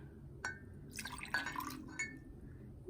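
Distilled water is poured from a brewing company glass into a small bottle, giving a few close, brief glassy clinks followed by short bursts of trickling and splashing liquid, with quiet pauses between and no talk.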